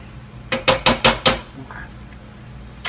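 A metal spoon scrapes and clanks against a dish of baked ziti in four quick, loud, evenly spaced knocks. Quieter kitchen room tone follows.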